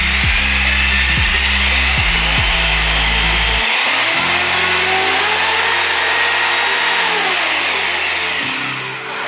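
A Ronix 2726 rotary hammer drill runs loud and close, whining at high speed with a pulsing low rumble at first, then smoothing into a steady high-pitched motor whine that dips slightly near the end.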